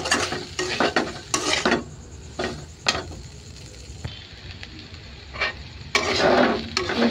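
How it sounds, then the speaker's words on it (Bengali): Noodles frying in a pan with spices are stirred in a run of scraping, rustling strokes over a steady sizzle, close and fairly loud, with bursts of clatter near the start and again at the end. "এখন আবারও একটু নেড়ে চেড়ে মিশিয়ে নেব।"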